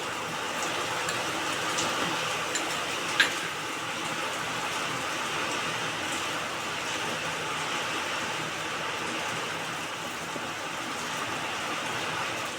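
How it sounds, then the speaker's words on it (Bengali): Steady, dense rainfall pours down without pause, a constant hiss filling the whole stretch, with one brief sharp click partway through. "প্রচণ্ড ধারে বৃষ্টি হচ্ছে"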